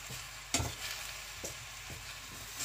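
Squid stir-fried in a pan sizzles steadily while a utensil knocks and scrapes a few times at irregular moments, with no talk.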